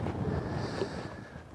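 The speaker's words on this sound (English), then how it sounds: "The wind's blowing across these points" Wind gusting steadily across a lake past a point while bass fishing, a low rushing buffet against the microphone with faint lapping beneath.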